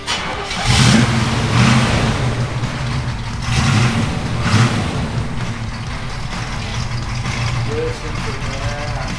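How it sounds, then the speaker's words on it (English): A 1978 Pontiac Trans Am with a lumpy cam starts and revs close by. Loud throaty surges rise and fall repeatedly over a steady rumbling idle, with faint background voices. "people love to hear what it sounds like when you just start it"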